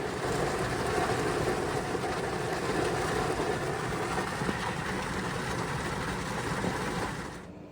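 Heavy rain pounds steadily on a car parked in a driveway, heard from inside as a dense, loud, continuous roar that fades away abruptly at the very end.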